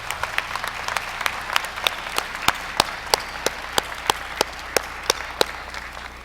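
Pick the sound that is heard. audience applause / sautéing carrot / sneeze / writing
audience applause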